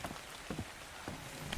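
Rain in the video game ARK: Survival Evolved, a faint, steady patter of drops falling on a surface, with a few slightly louder splashes and no talking.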